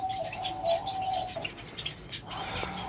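White zebra doves in a cage coo and chirp nearby in soft, repeated trilling calls, with faint rustling and wing flutter around them and no voices.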